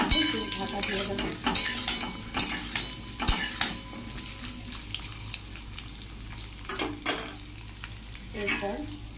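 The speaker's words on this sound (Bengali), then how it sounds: "দিয়ে রাখা আলুগুলো দিয়ে দেবো। করে একটু নাড়াচাড়া করে দেবো" Potatoes frying in a pan give off a constant sizzle while a spatula scrapes and knocks through them in bursts of stirring, close and fairly loud, with no one speaking.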